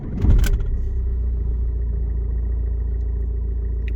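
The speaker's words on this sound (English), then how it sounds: "Let's start it up and see how it starts." An Alfa Romeo GT diesel engine starts up: a short cranking burst, then a steady, close, low idle rumble that holds evenly to the end with no talk.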